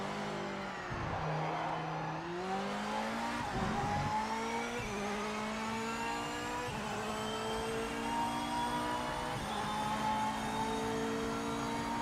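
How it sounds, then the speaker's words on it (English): A race car engine in the video game Project Motor Racing drones and revs steadily, pitch rising and dropping through gear shifts, with occasional tire noise, no voices. "Okay, but Michiel, what do you think of the engine sound of this particular car?"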